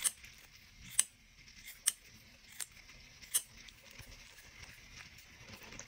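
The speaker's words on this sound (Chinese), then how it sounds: "继续来剪这个位置，由于这边的纸对齐了，我们一定要把它捏紧" Scissors snipping folded paper for a lotus paper-cut, a few sharp, close, isolated clicks spaced about a second apart over a quiet background.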